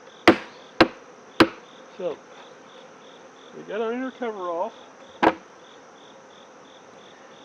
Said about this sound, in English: Oh yeah, nice bunch of bees.